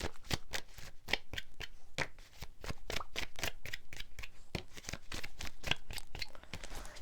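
Tarot cards are shuffled in a quick run of crisp, fast riffling flutters, held close and fairly soft, with no one speaking.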